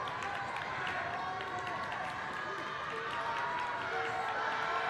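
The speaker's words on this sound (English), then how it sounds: "You got the Central crowd trying to make the noise, trying to get into Christian Bilolo's head" A crowd at a high school boys' basketball game, Central vs. Memorial, keeps up a continuous loud roar of voices during a free throw, filling the whole stretch without letup.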